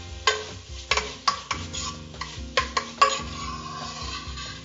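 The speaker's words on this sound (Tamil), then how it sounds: "இது ஆல்ரெடி வேக வச்சு வடிச்சு எடுத்து வச்சிருக்கிற கொள்ளு. அதை போட்டு வதக்கிடலாம்." Boiled horse gram sautéed in a pan: a low sizzle runs beneath a series of distinct metallic clacks and scrapes as a spoon strikes and stirs the pan in uneven rhythm.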